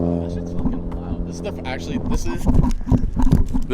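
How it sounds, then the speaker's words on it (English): A Mazda NA Miata's exhaust, heard from outside the car, drones loudly with a deep, rumbling engine note that grows louder toward the end, with a voice talking over it. "This is the first time I've heard my exhaust from the outside, and that's pretty loud"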